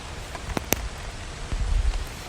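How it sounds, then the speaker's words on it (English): Soft, steady patter of light rain with a few brief louder drops, no voices, fairly quiet throughout. "Maybe it's a light rain,"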